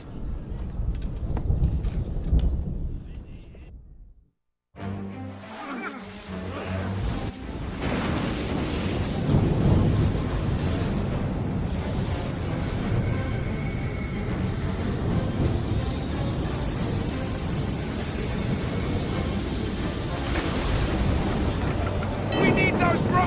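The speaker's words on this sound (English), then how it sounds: "You wish us to sail into the storm?" A fierce storm at sea in the video game Assassin's Creed III: steady roaring wind and crashing surf fill the scene after a brief silent gap, with voices talking over the din.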